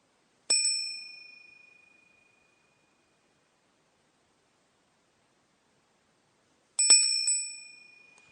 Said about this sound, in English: So you're going to hear the bell